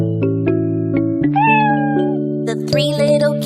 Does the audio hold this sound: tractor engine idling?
no